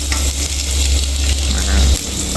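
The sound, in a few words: garlic frying and being stirred in a pan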